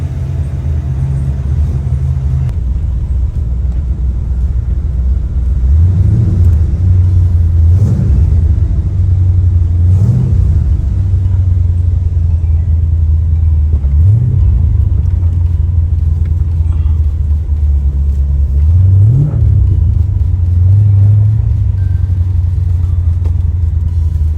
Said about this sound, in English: So now I need to just go take it for a spin and see if it runs any better.